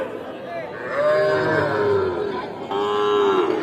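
Calves and cattle moo loudly at a busy weekly livestock market in Parbatipur, Dinajpur, with long drawn-out calls overlapping in close succession amid crowd noise.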